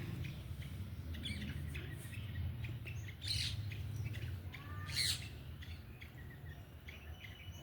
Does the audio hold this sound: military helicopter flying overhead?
no